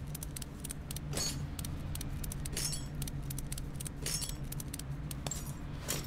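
Broken car muffler being removed in Car Mechanic Simulator 2014, a series of metallic clinks and ratchet-like taps at an uneven rhythm over a steady low hum, close and fairly quiet.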